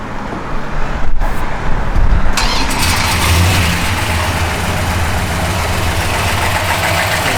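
A 1967 Dodge Coronet R/T engine, factory 375 horsepower, catches after a brief crank and settles into a steady, rumbling idle, close by and fairly loud, with no voices.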